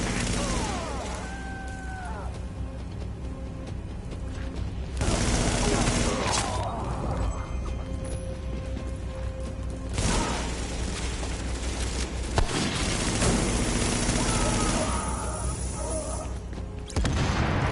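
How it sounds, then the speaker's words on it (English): Gunfire in The Division rattles in repeated heavy bursts and booms across a long stretch, loud and close, separated by brief lulls, with game ambience underneath. "So, that shooting, that was you, right?"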